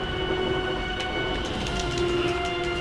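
Train rolling steadily along the tracks in Gears of War 2, a loud continuous rumble with clattering wheels and faint metallic squeals, no voices over it.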